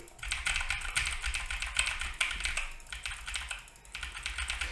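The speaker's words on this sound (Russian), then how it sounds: "усердно клацая и жму мышкой по клавиатуре" Rapid keyboard typing clatters in close, uneven bursts of keystrokes with brief pauses, picked up by a FIFINE A6V condenser microphone; individual mouse clicks are not clearly distinguishable.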